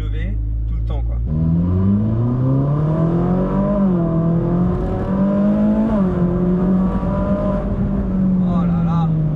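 A Ferrari 458 Speciale in race mode, its V8 heard loudly from inside the cabin, the pitch rising and dipping through gear changes with a sustained droning roar.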